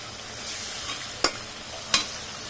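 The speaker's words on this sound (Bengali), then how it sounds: "এখন দিয়ে দেবো শুটকি, এটা হচ্ছে লইটা মাছের শুটকি।" Dried loitta fish shutki tossed into a hot frying pan, giving a steady broad sizzle with two sharp clattering stir hits, no talking.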